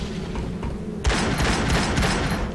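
Sustained rapid gunfire in the first-person shooter Unreal 2, a continuous loud volley of overlapping shots that starts abruptly after about a second of low ambient game noise.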